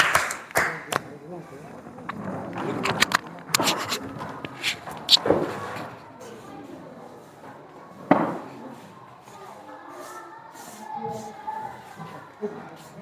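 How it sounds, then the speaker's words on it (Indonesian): Scattered hand clapping breaks out in a classroom for a student presentation group, loud uneven bursts at first that thin out into sporadic claps and quieter room murmur. "Tepuk tangan buat kelompok 3."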